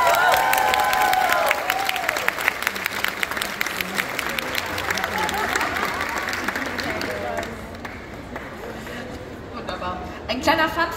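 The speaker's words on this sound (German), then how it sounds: "Ist dein Applaus." Loud, steady crowd applause fills the hall at a cosplay contest during the Watercon Waterfront convention in Bremen, with cheering and chatter underneath, slowly thinning toward the end before a brief swell.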